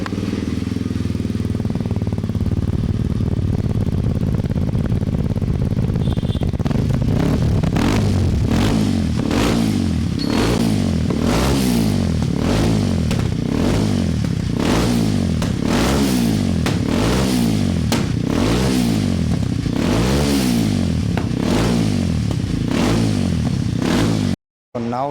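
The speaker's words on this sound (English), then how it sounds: "This is how the bike sounds with the DB killer on." A Kawasaki KLX 230 dirt bike with its dB killer fitted idles, then revs repeatedly in a steady series of loud, close throttle blips, with no one talking over it.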